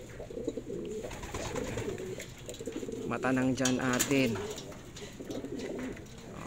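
A pigeon coos nearby, a short rolling call heard under someone talking and background noise.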